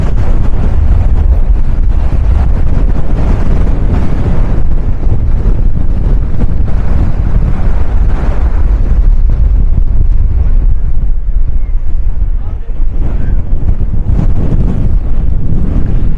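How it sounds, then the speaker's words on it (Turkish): Strong coastal wind at a camping cove in Urla, İzmir, roars and buffets the microphone continuously, with a loud low rumble and gusts rising and falling throughout; no voices. "Öyle bir rüzgar var şu an."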